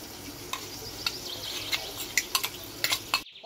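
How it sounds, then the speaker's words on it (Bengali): A ground spice paste for Kolkata street-style dum aloo is poured and scraped out in a quiet kitchen, giving soft wet scrapes and a few sharp clinks of a utensil against a vessel. "বাটা হয়ে গেছে, আমি এবার ঢেলে নিচ্ছি।"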